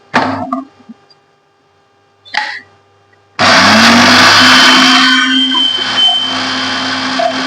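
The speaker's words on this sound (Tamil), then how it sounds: "முதல்ல காஞ்ச மிளகாய் போட்டு அரைச்சிடுறேன் கொஞ்சம்." A mixer grinder grinds dried red chillies: a few short knocks first, then the motor bursts on loud and keeps up a steady, whirring roar to the end.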